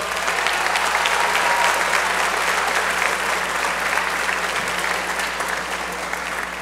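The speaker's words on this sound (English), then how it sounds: "please help me in applauding your parents" Sustained audience applause at a high school college decision day ceremony, a dense steady wash of clapping from a large crowd that holds at full strength for several seconds before easing slightly.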